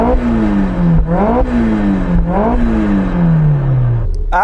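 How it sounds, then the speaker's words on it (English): Supercharged Mazda MX-5 Roadster engine and exhaust under way, loud and near, revs rising in three quick pulls with gear changes between, then a long steady drop in pitch as the car eases off. "Let's have a listen to the supercharged car."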